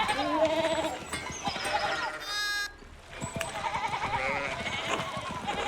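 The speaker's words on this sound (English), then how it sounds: "No, the sheep block your path again." Sheep bleating in the video game Pentiment, several close bleats from a small flock layered over background activity and a short chiming tone, with a voice speaking briefly.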